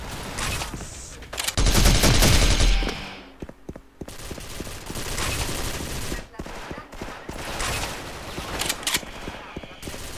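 Gunfire in the video game Special Force crackles in rapid bursts, with a loud sustained volley early on and then scattered shots and shorter rattling bursts, while a player talks over the action.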